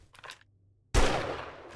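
A single sharp gunshot booms loud and close in the zombie survival video game 7 Days To Die after a short quiet, with a long rough tail, and faint thuds come before it.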